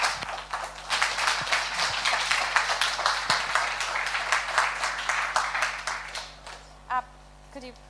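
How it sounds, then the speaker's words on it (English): An audience at a blockchain technology education panel applauds the panelists, with dense steady clapping through most of the stretch that thins out and fades near the end, while a few voices and stray sounds come through faintly. "So let's give a big round of applause to them."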